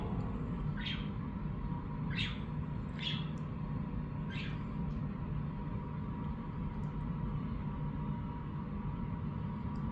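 A few brief, faint bird chirps spaced a second or so apart early on, then fading out, set against a steady hiss of outdoor background noise with no talking.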